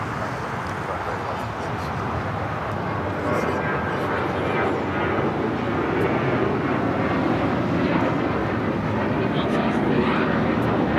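An Alaska Airlines Boeing 737 MAX 9 roars steadily on its takeoff run at LAX, a broad continuous jet engine rumble that builds slightly over time.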